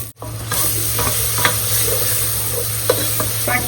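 A wooden spoon stirs masala of onion, turmeric, salt, chili, ginger and garlic frying in a pan for kheema aloo matar: a steady loud sizzle with repeated scraping strokes every second or so.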